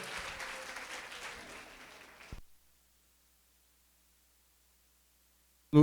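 Church congregation clapping at the close of a Sunday service, a steady burst of applause fading out after about two seconds into silence, ending with a brief loud thump.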